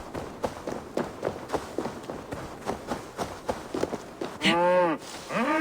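A cow in the video game Assassin's Creed Valhalla lets out one loud, drawn-out moo near the end, after a run of rhythmic footstep-like thuds, with no one talking.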